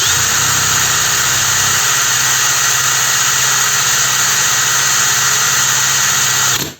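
Heimerdinger LB180 gyroscopic cordless screwdriver running at full speed, a loud steady high-pitched motor whine held evenly throughout, with a slight shift in tone early on before it cuts off at the end.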